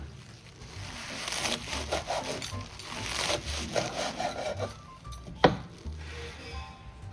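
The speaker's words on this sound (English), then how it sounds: "Need some spring onion. Let's chop them up." A knife chops spring onion on a board in a kitchen, a quick series of soft, rhythmic taps close by, ending with one sharper knock.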